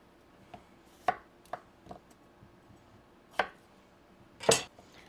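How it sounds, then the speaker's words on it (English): A knife chops potatoes into roughly one-inch pieces on a cutting board, about half a dozen sharp, irregular thuds over a few seconds in a quiet room. "So I'm chopping them into pieces like that"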